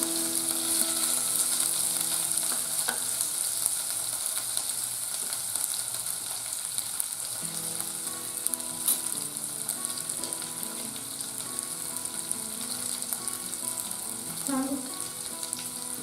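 Onions fry in a cumin and garlic tadka for Rajasthani panchmel dal, a continuous crackling sizzle held close and even for a long stretch, with faint stirring and no voices.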